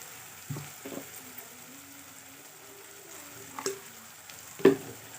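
Soft background sizzle in a pan with a few scraping stirs and a louder splash-like clatter near the end as ground toor dal paste with a little water goes in.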